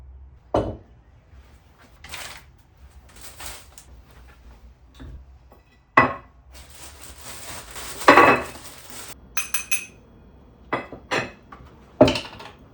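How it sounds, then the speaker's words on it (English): Kitchen clatter from making a ham and cheese sandwich with bread and butter, pickles, mayo and mustard: scattered knocks of a knife and plate, a jar lid rattle and short scraping bursts, close and without talk. "I made a ham and cheese sandwich with bread and butter, pickles, mayo, and mustard"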